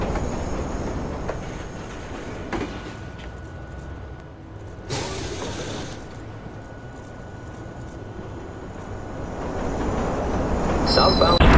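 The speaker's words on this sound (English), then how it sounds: "Northbound train arriving shortly." A train pulls into a station in the video game Watch Dogs, a sustained rumble of rolling carriages with faint squeals and a brief hissing burst, swelling louder toward the end.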